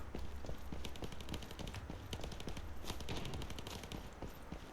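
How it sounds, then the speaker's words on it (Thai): Gunfire in the online shooter game Lost Light: rapid bursts of distant machine-gun shots crackle as a dense, quiet, continuous rattle of sharp cracks, with no voices over it. "เฮ้ยเหมือนมีคนยิงปืนกลรัวนะ"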